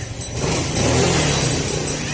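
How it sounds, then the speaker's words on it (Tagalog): Vehicles pass along MacArthur Highway, a continuous roadside roar of engines and tires with one vehicle swelling louder as it goes by, no voices. "malapit tayo sa kalsada yan kalsada po yan kaya medyo maingay mga sir"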